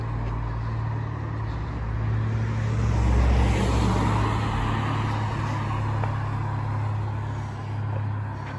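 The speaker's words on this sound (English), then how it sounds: "Masses of traffic." Road traffic passes through East Leake village on a frosty morning, a continuous low engine rumble and tyre hiss swelling as a vehicle goes by close, then easing off, with no talk.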